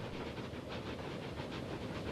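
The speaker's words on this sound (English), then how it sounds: "our train, yep, it's already out" A Siemens tram pulling away in Manchester, heard as a steady, close rumble with a hiss and a faint rhythmic pulsing running throughout.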